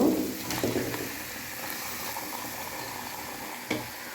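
Free-range desi chicken pieces fry in oil with ginger paste and chilli for khichuri, giving a soft, steady sizzle with occasional stirring scrapes and a brief clatter near the end.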